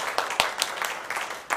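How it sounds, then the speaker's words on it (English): A room claps for the executive director, a sparse run of distinct hand claps at an uneven rhythm, fairly close, with a few people taking part. "a round of applause"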